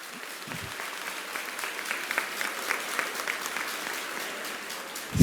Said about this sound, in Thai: ขอเสียงปรบมือดัง ๆ ให้กับกองทัพธรรมครับ